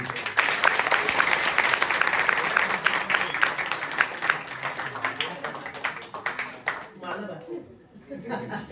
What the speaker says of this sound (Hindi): अरे बड़ी ताली होगी